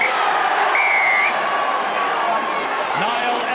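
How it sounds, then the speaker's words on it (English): Rugby league stadium crowd roars after a try in a Salford versus Warrington match, a sustained broad wash of cheering with a commentator's voice riding on top. "And listen to the crowd here."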